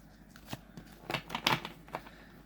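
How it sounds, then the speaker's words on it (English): A deck of oracle cards is shuffled by hand nearby, a short run of crisp papery riffles and snaps with a louder burst in the middle, without voices. "That's a really nice shuffle, actually."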